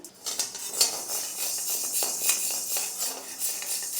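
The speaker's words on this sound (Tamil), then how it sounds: "அடுத்தது கருப்பு உளுந்து இதையும் இதே மாதிரி நல்லா வறுக்கணும்" Black gram is dry-roasted in a pan for a horse gram chutney powder, with a spatula stirring it continuously. Steady scraping and rattling carries through with uneven clinks of metal on the pan. No one speaks.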